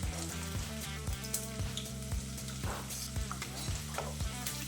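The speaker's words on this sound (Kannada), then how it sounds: "ನಾನು ಇಲ್ಲಿ ಕಟ್ ಮಾಡಿಕೊಂಡಿರುವಂಥ 2 ನೀರುಳ್ಳಿ ಅದನ್ನು ಇದಕ್ಕೆ ಹಾಕ್ಕೊಳ್ತಾ ಇದ್ದೇನೆ. ಎಣ್ಣೆ ಬಿಸಿಯಾಗಿದೆ" Chopped onions, two of them, sizzle in hot oil in a pan, a steady dense frying hiss with faint stirring clicks, close and continuous, no talking.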